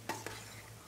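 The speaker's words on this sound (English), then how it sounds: "So we are stirring and frying." Spring vegetables stir frying in a pan, with a soft steady sizzle and two brief stirring scrapes near the start, close and moderately quiet, no voices.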